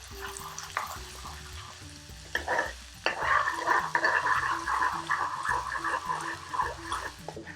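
Onions softening in a hot pan for a bhuna chicken curry, a close crackling sizzle with stirring scrapes that grows louder partway through, under occasional quiet talk and background music.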